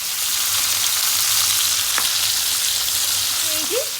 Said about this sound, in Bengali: অলরেডি চৌঁচা আওয়াজ থেকে আপনারা বুঝতে পারছেন যে রান্না শুরু হয়ে গেছে